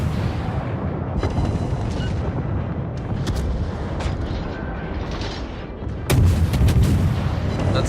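Naval guns of the British tier I cruiser Black Swan firing in World of Warships, booming gun reports over a constant engine and sea rumble, with a heavier salvo toward the end.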